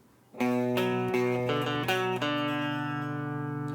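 Electric guitar plays the second riff of a song, a handful of ringing picked notes and chords that settle into one long sustained chord, clear and close with no talking.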